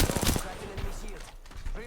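Rapid close-range gunfire in the Apex Legends battle royale game, a dense burst of quick shots at the start, then a few scattered hits with a voice talking over them.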